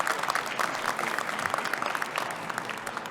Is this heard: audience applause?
yes